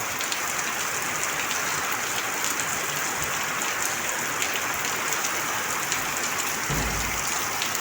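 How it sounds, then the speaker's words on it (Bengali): Heavy rain pours down in a dense, constant hiss, loud and unbroken, drumming on surfaces all around. "অনেক বৃষ্টি হচ্ছে"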